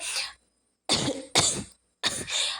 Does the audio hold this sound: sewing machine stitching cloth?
no